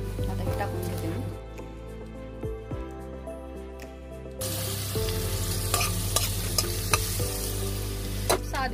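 Chopped greens with minced chili and garlic hit hot oil in a kadhai, bursting into a loud sizzle partway through, followed by continuous frying and repeated scraping stirs; a faint voice is heard early on.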